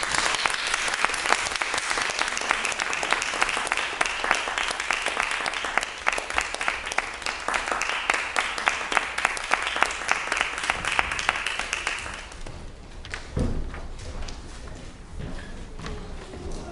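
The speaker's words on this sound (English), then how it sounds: "Can you give her a warm round of applause?" An audience claps warmly before a student's solo cello recital, a dense, sustained round of applause that lasts about twelve seconds and then fades to a few scattered claps and quiet room noise.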